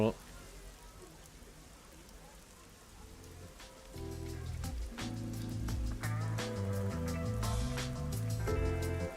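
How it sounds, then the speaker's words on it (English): Steady rain patter from the video game Rain Code, a soft continuous hiss that swells louder midway, with game music and background tones layered over it. "The rain sounds like it's bugging out."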